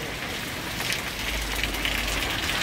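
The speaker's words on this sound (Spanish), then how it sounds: "Está pegando un llovidón" Heavy rain falls steadily, a dense, even hiss of drops with a faint low rumble beneath, close and continuous, with no voices.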